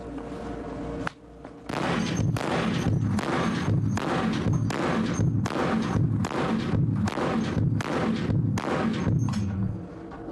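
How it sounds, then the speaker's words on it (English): Barrett M107 .50-caliber rifle firing about ten heavy booming rounds in quick succession, each shot a loud sharp blast with roughly a second between them, close and alone. "the Barrett is that it can actually deliver 10 rounds downrange in less than 10 seconds"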